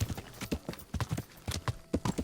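Horse hooves clip-clop in a video game, a steady close rhythm of paired hoofbeats repeating at an even trotting pace, with no talking over it.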